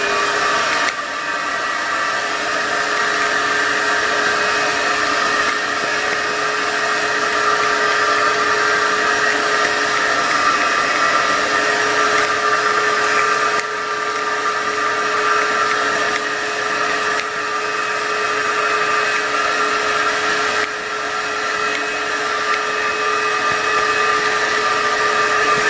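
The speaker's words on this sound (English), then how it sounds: "And suck everything up at the vacuum." A shop vacuum sucks loose debris and grit out of a Honda K20 engine's intake port area during polishing prep, a steady loud whine holding for the whole stretch with small dips, no talk over it.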